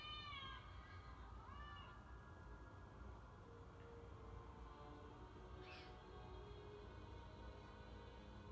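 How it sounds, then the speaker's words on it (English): A cat meows a few times in a video game scene, the cries rising and falling over a steady noisy game background with ambient hum, with no voices talking. "We're gonna have a cat."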